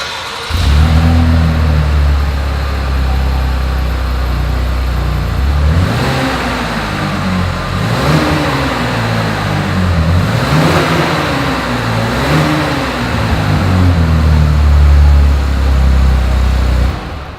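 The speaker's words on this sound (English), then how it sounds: "As always, here is that exhaust clip." A 2020 Chevrolet Blazer's exhaust rises and falls through several loud, close revs over a steady idle, with the engine climbing and settling in repeated swells and no talking.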